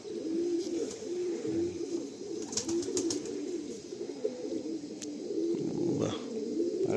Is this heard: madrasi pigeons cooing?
yes